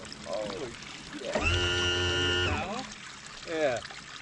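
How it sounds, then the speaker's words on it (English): Water pours and trickles out of a 1977 Taylor SS jet boat, a close splashing flow heard under raised voices and a steady tonal hum in the middle. "water pouring out of there"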